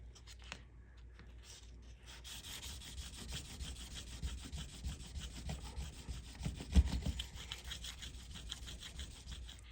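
A part of a Seikosha ship's clock is rubbed with 2000 grit sandpaper, making soft, quiet back-and-forth scratching strokes in an irregular rhythm with a faint room hiss.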